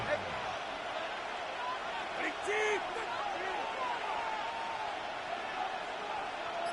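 Stadium crowd noise in a Madden NFL football game, a steady roar with a few whoops as Miami drives in the red zone, held under continuous play-by-play commentary.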